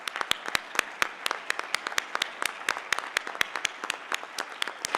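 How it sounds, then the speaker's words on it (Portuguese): A crowd applauds at a Brazilian public-policy index launch and awards ceremony, with steady, sustained clapping and sharp individual claps standing out from the dense, even wash. "os aplausos falam mais até do que qualquer palavra"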